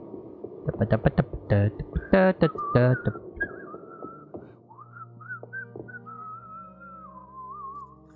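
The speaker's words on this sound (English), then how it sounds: "He's whistling." A video game character in Cyphers whistles a wavering, melodic tune, faint against a low hum. It begins after a burst of music-like voiced sounds.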